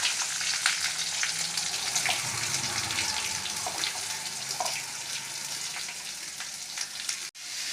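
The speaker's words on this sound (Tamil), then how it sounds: "அடுத்து வெங்காயத்தை சேர்த்து வதக்கவும்" Steady, close sizzling of onions frying in hot oil with curry leaves for a potato masala, with occasional spits and crackles and a brief stir near the end.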